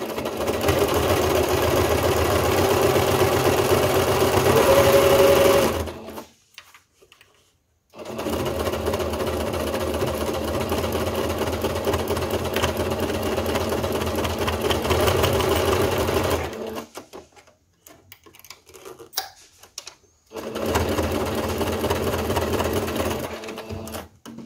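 A sewing machine stitches along the top of a handmade crochet-lace and Boro-Sashiko crossbody bag in long, loud, steady runs, broken by two brief pauses filled with quiet handling clicks.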